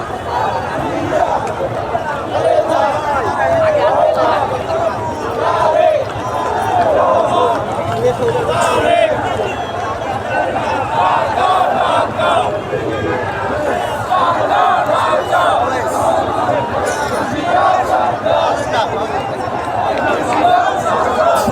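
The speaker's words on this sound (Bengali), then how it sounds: "এই মুহূর্তে আসলে বিশাল বড় মিছিল আপনারা দেখতে পাচ্ছেন" Huge street procession of BNP supporters in Dhaka, Bangladesh marching toward the Indian embassy, with a dense, continuous roar of chanting voices and crowd noise that holds steady and close the whole time.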